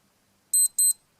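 A 1983 Casio G-Shock DW-5000C digital watch sounds its test alarm: two short, bright, high-pitched electronic beep bursts in quick succession, close and clear against silence.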